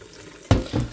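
Water from a kitchen tap splashes into a sink as rinse water is drained off rice, a sudden loud gush that starts midway and runs on close by.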